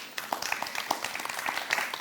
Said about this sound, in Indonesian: Mas Ian boleh berikan tepuk tangan dulu.